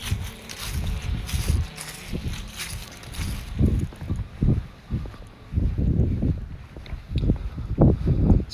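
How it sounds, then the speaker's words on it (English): Gusty wind buffeting the microphone outdoors while a drone is flown, heavy low rumbling bursts coming and going in irregular surges. "It's pretty windy today too"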